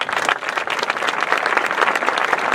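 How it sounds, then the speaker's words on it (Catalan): Loud, dense applause from a crowd at an anniversary celebration, sustained clapping throughout with no pauses. "us demano un fort aplaudiment."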